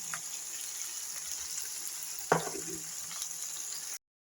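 Brinjal with onion frying in a pan gives a quiet, steady sizzle, broken by one sharp clatter midway, before the sound cuts off abruptly.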